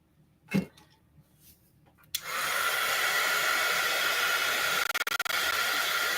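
A hair dryer drying collage artwork switches on after a couple of quiet seconds with a soft knock, then blows in a loud, steady rushing whoosh that dips briefly partway through.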